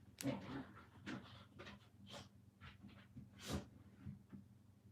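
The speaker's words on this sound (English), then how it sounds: "Sorry again for the background noise. The dogs are literally outside my door." Several dogs just outside a door, heard as faint, intermittent panting, snuffling and whimpering bursts in a quiet room.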